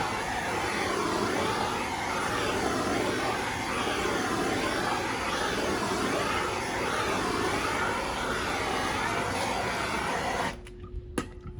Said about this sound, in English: I need to grab my torch and heat it up though.